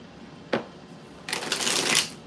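Playing cards being shuffled: a quick single riffle snap, then a longer rustling riffle of cards building and fading, close and clear.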